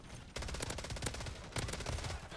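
Rapid automatic gunfire from Call of Duty Modern Warfare 3, apparently an M4 rifle, with dense bursts of shots filling the clip and a brief pause near the start.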